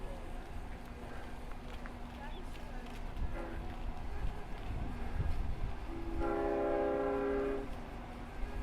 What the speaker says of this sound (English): there's the headlight of the train. Rounded the curve.